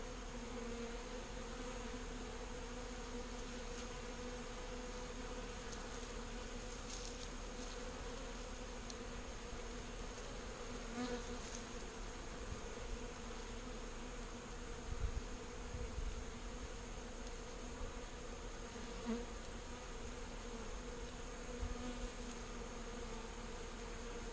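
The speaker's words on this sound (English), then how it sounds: "So what we got here is a 3-pound package of bees" Honey bees from a 3-pound package buzzing steadily inside a hive, a dense continuous droning hum close to the microphone with occasional individual wingbeats rising above it.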